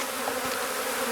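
Honey bees buzz in a dense, continuous drone around an opened hive being de-winterized, the swarm close and steady throughout with no voices.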